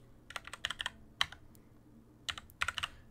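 Computer keyboard typing in short bursts of quick keystrokes with pauses between, close and moderately quiet, entering values into settings fields in the Godot game engine.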